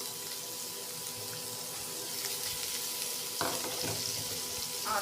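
Onion hits hot oil in a pan for pomfret kaliya and fries with a soft, steady sizzle that grows a little louder midway, with a few stirring scrapes and no talking.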